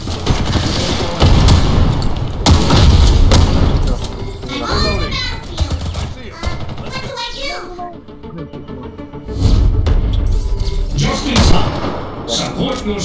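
Rapid automatic AK-47 fire in the Ghost in the Shell: First Assault online shooter, loud bursts in the opening seconds and again near the end, with game voices and chatter in between.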